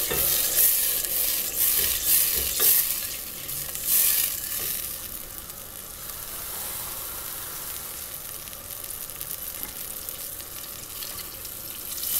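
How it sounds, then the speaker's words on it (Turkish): A mixture for stuffed peppers being stirred in a pot while water is gradually added, with a soft continuous sizzle, wet sloshing and scraping, louder early on before settling into a steady quieter hiss. "yavaş yavaş su eklemeye başlıyorum. Her suyu eklediğimde bir şu şekilde karıştırıyorum."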